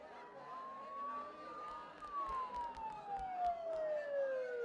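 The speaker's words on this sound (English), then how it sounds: "Don't those sirens sound really close?" Sirens from the video game Persona 4 Golden wail in long rising and falling tones, moderately loud and steady, over low background rumble and scattered faint thuds, in a foggy game town.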